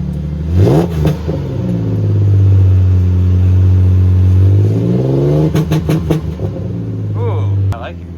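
A Ford Ranger fitted with a custom Magnaflow exhaust revs loudly up close, the engine note rising into a long sustained roar before dropping back, with brief voices near the end.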